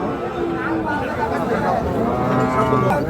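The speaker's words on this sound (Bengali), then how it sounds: "এখানে দেখছি আমরা অনেকগুলো গরু বাঁধা রয়েছে, আর এই গরুগুলো হাট থেকে কেনা হয়েছে।" Cattle bought from a market and tethered at a bull farm moo loudly and continuously, close by, with a low, drawn-out lowing that overlaps with background chatter and people talking.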